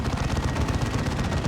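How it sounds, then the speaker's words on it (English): A Dreadnought's assault cannon fires in Dawn of War 2, a rapid, loud, continuous burst of heavy automatic shots with no pauses. "There's a Dreadnought up already with an assault cannon blasting away"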